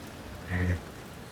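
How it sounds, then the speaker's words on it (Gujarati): Light rain that has been falling steadily since midnight patters outside a home as a soft, even wash of noise, briefly interrupted by a short low voice-like sound. "ભાઈ વરસાદ ધીમો ધીમો શરૂ થઈ ગયો છે સવારનો, મતલબ અડધી રાતનો શરૂ છે"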